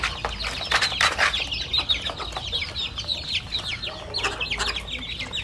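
Fighting roosters bred on a home farm cluck and call in quick, repeated bursts, with some wing flapping, fairly close and lively.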